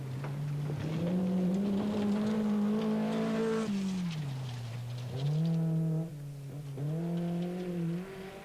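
A 1600cc Group B Skoda rally car on a stage of the 1986 Scottish Rally drives past close by, its engine revving high, dropping between gear changes, then climbing again.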